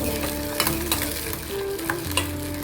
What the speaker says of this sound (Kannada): ಕಿತ್ಕಿದ ಬೇಳೆದು ಇದೊಂಚೂರು ಫ್ರೈ ಮಾಡೋಣ